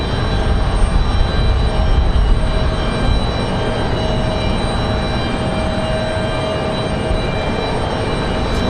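An Endeavor CRJ regional jet departs Raleigh-Durham International for Roanoke on a windy day, its engine noise a loud, steady broadband roar that holds throughout.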